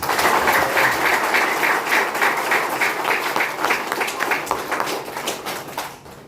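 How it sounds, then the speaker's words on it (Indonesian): Enthusiastic applause from a group, loud at first then gradually thinning and fading toward the end. "Oke, tepuk tangan Dimas Asam Murad."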